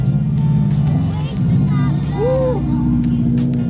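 Subaru cars roll in to a local car show, their engines rumbling steadily and close by, with a brief rising rev partway through. People talk loudly over the engine noise.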